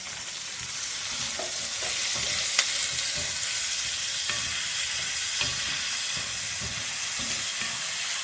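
Garlic and salt sauté in a hot pan for a small chutney, giving a steady close sizzle with faint scraping stirs and occasional soft clicks throughout, and no voices.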